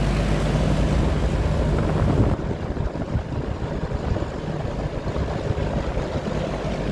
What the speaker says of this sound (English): Yeah, I can tell this fan was used on medium and low speed mostly. So this thing's pretty loud